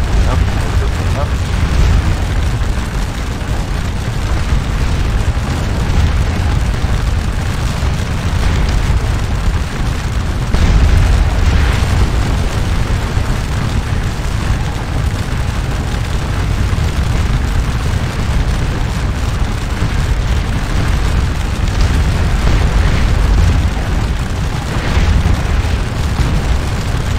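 Artillery cannon fire rolls across the battlefield in Scourge of War Waterloo, a dense continuous rumble of booms layered under battle noise throughout, steady and loud with no clear pauses.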